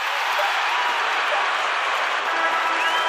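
A hometown crowd at the Milwaukee Bucks' basketball arena applauds and cheers in a steady roar during a playoff game against the Boston Celtics.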